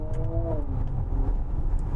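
Synthetic engine note of a 2025 Genesis GV70 EV, played through the cabin as paddle shifts are worked, a low droning rumble with a tonal whine that rises then drops, steady and fairly loud with no talking.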